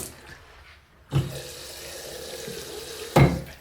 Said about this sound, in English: If we turn on the left tap all the way open, that is the amount of pressure that is coming out